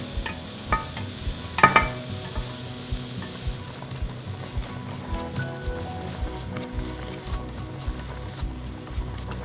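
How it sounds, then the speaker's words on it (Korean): Salted zucchini, still wet from salting, stir-fried over high heat, giving a steady hissing sizzle close up with a few louder utensil knocks against the pan early on and soft stirring scrapes throughout. "애호박은 절인 거 물기 안 짜고 그대로 센 불에서 볶을 거예요."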